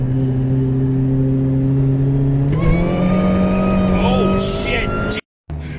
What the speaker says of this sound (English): Let's see if it'll spin, you know, at 40 miles an hour.